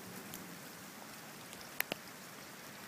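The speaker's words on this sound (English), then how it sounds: "There's still some heavy rain, but it seems to be calming down a little bit." Light rain patters down after a thunderstorm in Lakewood, a soft fine hiss with a few sharper drips near the microphone, faint and steady, no talk.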